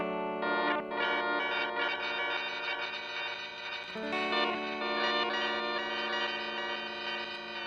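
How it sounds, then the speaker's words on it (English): A Chase Bliss Blooper looper pedal produces shimmering, pitch-shifted Rainbow Machine-style tones, with dense harmonic layers that jump and restack around the four-second mark, and heavy modulation and echo throughout, with no talking. "So this is how we're gonna get Rainbow Machine sounds."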